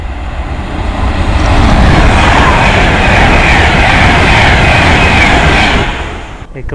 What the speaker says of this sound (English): Here comes the London Liverpool train.